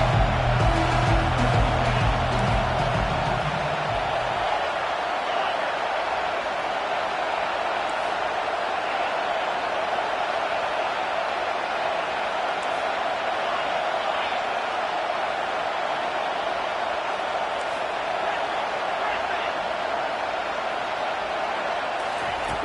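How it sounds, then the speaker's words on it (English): A football stadium crowd roars steadily behind the defense on a big third down at a Texas vs. Oklahoma State game, a broad sustained wash of cheering that stays loud throughout. "Big 3rd down as the crowd gets behind this defense."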